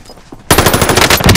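Rapid machine-gun bursts aimed at the player in a multiplayer shooter, a quiet lull broken by a loud, dense rattle of automatic fire close by that runs to the end.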